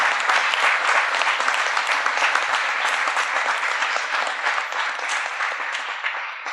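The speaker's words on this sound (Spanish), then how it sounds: "I'd like to give them a hand." Audience applause at a Buddhist teaching class in Guadalajara, a dense, steady wash of many hands clapping that carries on evenly throughout and eases off slightly at the end.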